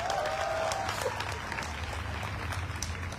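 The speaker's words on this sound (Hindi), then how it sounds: "रामवीर सर के लिए भी एक बार तालियां" Audience applause for a man at a large gathering in India, a dense, steady wash of clapping that holds at even loudness throughout, with a faint voice briefly heard early on.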